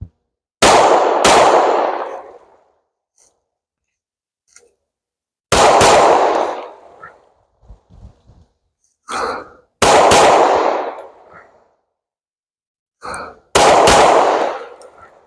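Four pairs of loud, sharp pistol shots from a Glock 17 clone fitted with a single-port compensator, fired as quick double taps at an outdoor range, each pair ringing out before a gap.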